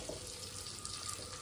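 Water pours steadily into a cooking pot of spiced curry with potato in a home kitchen, a brief, faint, even rush of liquid.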